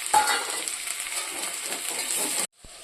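Chopped onion and a few garlic cloves fry in a pan as a loud, continuous sizzling hiss with fine crackle that cuts off abruptly near the end.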